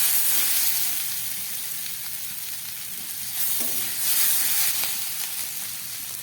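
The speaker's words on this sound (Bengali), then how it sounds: "আলুগুলোকে খুব ভালো করে কষিয়ে নিলাম।" Potatoes sauté in a hot pan for a jackfruit dish, a loud continuous sizzle and hiss with stirring scrapes swelling midway.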